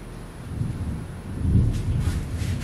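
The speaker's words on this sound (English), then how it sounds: "it's just one big thunderstorm, though." Rumbling thunder from one large thunderstorm rolls through a low, steady roar, swelling louder midway with a deeper boom, heard without talk and with some wind noise.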